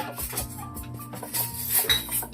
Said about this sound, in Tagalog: nagre-ready na si Ate Pia ng ano, Plato. mga kutsara at plato